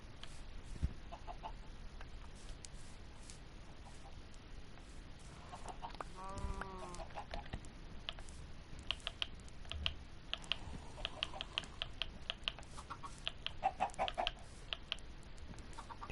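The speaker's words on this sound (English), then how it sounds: "Feeding my chickens." A single chicken clucks briefly mid-way in a PS4 Minecraft survival game, faint amid frequent soft keyboard-like clicks and tapping sounds scattered across a quiet background.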